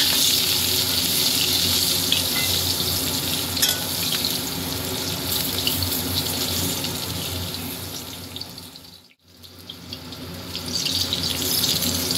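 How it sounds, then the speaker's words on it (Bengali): Eggplant slices frying in a generous amount of oil give a steady, loud, close sizzle that runs almost unbroken, dipping briefly near the end before resuming; no one speaks. "বেগুন ভাজা একটু তেল লাগে বেশি, তো ওই জন্য তেল বেশি করে দিয়ে দিই"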